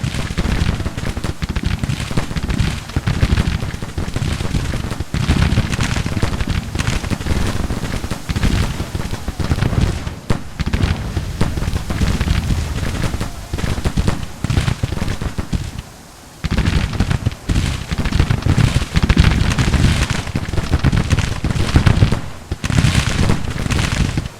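Massed soldiers' rifle fire in a Grand Tactician Civil War battle, a dense, continuous crackle of musketry and booming volleys that stays loud throughout, dropping out for only a moment midway.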